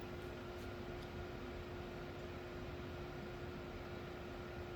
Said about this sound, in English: now I wired up my sine wave inverter here. Let's power it on.